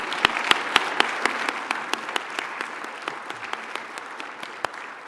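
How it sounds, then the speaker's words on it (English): An audience claps for honorees at a reconciliation award ceremony in British Columbia, a sustained, fairly loud round of applause with sharp individual claps standing out and no talking. "Can we give a round of applause for tonight's honorees?"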